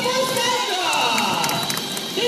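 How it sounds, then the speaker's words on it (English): A crowd at a sea lion show responds to Sandra the sea lion, loud and continuous, with scattered claps, cheering and children's shouts blending together, and voices talking over it. "How about a round of applause for Sandra?"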